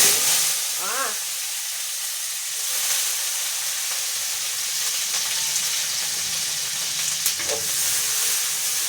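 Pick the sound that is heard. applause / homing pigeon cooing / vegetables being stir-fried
vegetables being stir-fried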